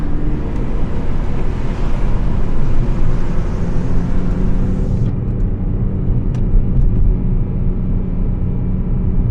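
A steady, loud rumble of a car cruising at night through Boston in third gear, with constant engine and road roar and wind noise filling the cabin and no clear voices.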